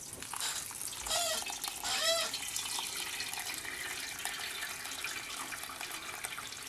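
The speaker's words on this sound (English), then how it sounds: "we're going to pour the tea through this and catch all the big parts" Tea is poured through a cheesecloth strainer while brewing dark beer, a steady liquid trickle and splash with a couple of louder gushes in the first seconds.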